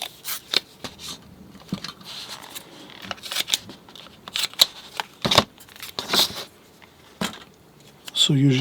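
Artist tape being pulled off a roll and pressed down to fix watercolor paper in place: a run of crisp, close tearing and crackling bursts with scratchy rustles between them, ending with a brief voice.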